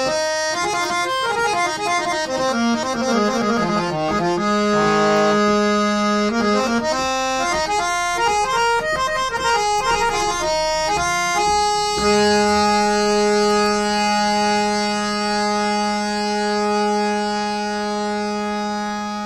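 A Kolkata-made three-line harmonium plays with the bass stop closed, giving a bright reedy tone: a run of quick melodic notes and chords, then one long sustained chord held steadily, loud and close without speech.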